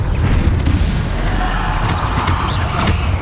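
A Bombarda spell explosion in the video game Hogwarts Legacy: a loud, close booming blast with rumbling low end and crackling bursts that sustain throughout the short moment.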